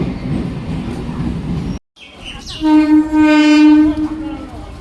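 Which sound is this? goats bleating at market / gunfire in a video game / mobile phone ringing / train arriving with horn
train arriving with horn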